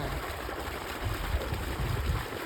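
Water rushes strongly through a village irrigation canal in rural South India, a dense, continuous roar with low churning surges that holds loud and close throughout, with no voices.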